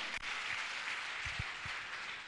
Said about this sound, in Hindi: अब तो ताली बजा दो।